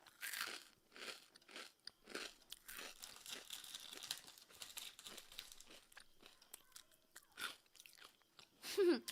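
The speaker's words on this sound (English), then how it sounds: "I'm taking this as a little pause to snack." Crisp crunching bursts from chewing a snack, repeated in uneven bites up close, with crinkly rustling between them.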